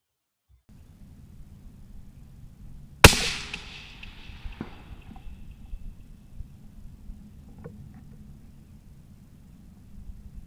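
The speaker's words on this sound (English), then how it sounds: "I'm going to take advantage of a brief let-off to take the first shot with a no-wind hold with 2 mils dialed on the scope" Scoped rifle fired at a distant target, one sharp loud crack followed by a long fading echo rolling off, with a faint distant impact after, over steady low outdoor wind rumble and no talking.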